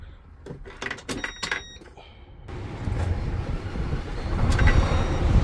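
A 2009 8-ton stainless-steel water tanker truck with a manual transmission cranks and its diesel engine catches, settling into a rough, rising rumble after a few clicks and beeps.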